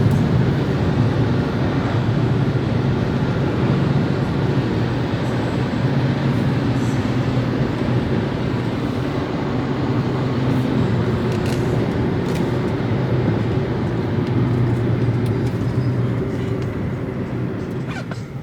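A 2010 BMW 535xi drives along, its steady engine hum and road and tire roar filling the cabin in an even, continuous drone with no talking.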